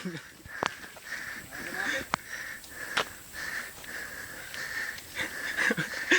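Heavy, rhythmic panting and wheezy breaths from hikers climbing uphill on a mountain ascent, close to the microphone, with short voices breaking in now and then.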